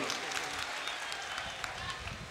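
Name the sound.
audience applause at a mushaira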